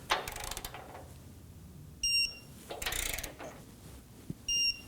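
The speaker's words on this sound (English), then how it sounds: "Go ahead and get the nut side torqued down." A torque wrench tightens the camber bolt nut on a 2017-2024 Nissan Armada front alignment kit, giving short ratcheting rasps and a couple of sharp metallic clicks in a quiet garage.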